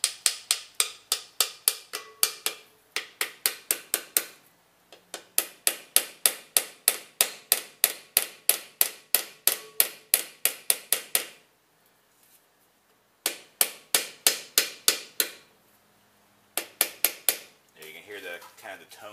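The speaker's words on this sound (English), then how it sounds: "and then I tap them in with a piece of wood" Rapid sharp wooden taps drive a new wheel seal into the 14 bolt rear axle of a 1978 GMC C2500, struck with a piece of wood in quick bursts of a dozen or so blows separated by short pauses, close and crisp.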